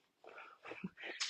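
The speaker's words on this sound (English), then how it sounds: "That's my dog." A dog makes a few brief, soft whimpers and snuffles, quiet and close, with short pauses between them.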